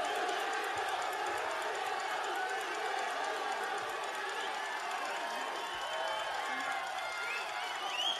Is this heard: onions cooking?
no